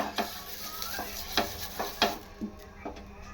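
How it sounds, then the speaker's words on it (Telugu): Chopped onion stirred on a hot griddle pan while making pesarattu (mung bean dosa), with steady sizzling and half a dozen sharp scraping strokes of a spatula, close and clear. "ఇక్కడైతే పెనమైతే పెట్టేసాను ఇలా ఉల్లిగడ్డ అయితే తిక్కేస్తున్నాను"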